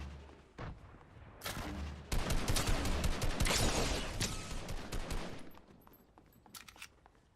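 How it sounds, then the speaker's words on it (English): Grenades fired in a multiplayer shooter game: a dense burst of distant explosive booms and crackling gunfire that swells, then tapers off into scattered single shots. "That's somebody firing grenades over here."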